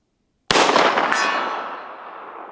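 One loud lever-action rifle shot aimed at a steel target, the crack followed a half second later by a distant clang of the steel plate and a long fading outdoor echo.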